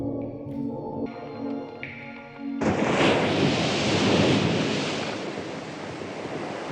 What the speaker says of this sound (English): Wow, it's like an ocean.